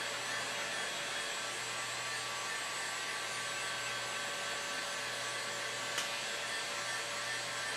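A hot air rework blower heats PlayStation 3 processor chips at high temperature, giving a steady, even airy hiss with a faint hum underneath and a single tiny click partway through, close and constant.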